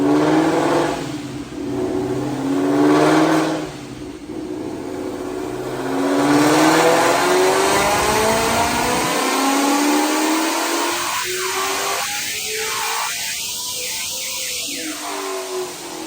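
2019 Mustang GT with a Procharger P1X supercharger and mods, running E85 on a dyno, loud engine roar climbing steadily in pitch through a long full-throttle pull, then cutting off and dropping into a few sharp blips.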